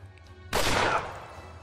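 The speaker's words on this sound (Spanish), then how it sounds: "Disparo drenante sobre este sujeto." A draining shot fires in the tactics game Achtung! Cthulhu Tactics: one sudden, loud gunfire blast that hits hard, then trails off into a noisy decay over about a second.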